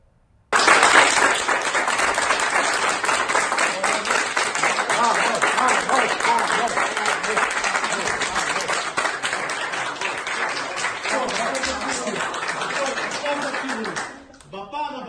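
Fans greet a man arriving in Israel with a loud, dense burst of applause and cheering that starts suddenly and holds steady for about fourteen seconds before dropping away.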